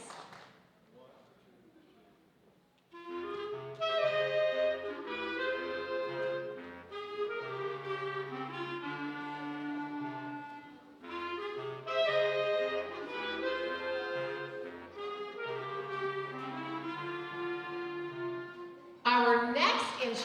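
Clarinets and a bass clarinet play together at a high school children's concert in a hall, the bass clarinet's low notes stepping beneath a harmonized melody, fairly distant, after a quiet opening of speech.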